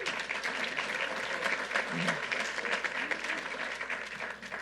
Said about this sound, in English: Let's give our county executive another round of applause